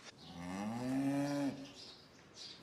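A cow at a petting zoo lets out one long, loud, close moo lasting over a second, followed by quieter background noise with faint bird chirps.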